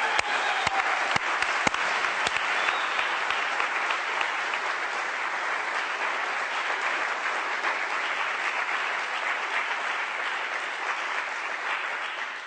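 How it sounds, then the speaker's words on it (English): Audience applause at a lawyer's presentation, opening with a few sharp individual claps before swelling into steady, even clapping from a large room that holds to the end. "we should applaud that"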